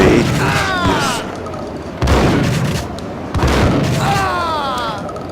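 Shotgun blasts fired into a wall in the video game Max Payne, three heavy booming shots roughly a second apart, each with a short rolling tail, with game voices talking over them.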